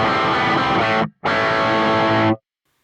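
Two bursts of heavily distorted electric guitar from a PRS Custom 24 bridge pickup through the Brit 800 preset in Blue Cat Audio Axiom, crunchy and loud, separated by a brief gap before stopping cleanly into silence.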